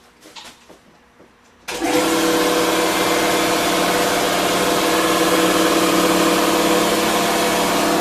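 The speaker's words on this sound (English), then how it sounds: "I'm going to get a little compressed air going here. Blow these holes out." A strong, steady blast of compressed air blows out freshly tapped holes in a lathe bracket. It follows a short stretch of quiet handling noise, then holds at a loud, constant hiss close by.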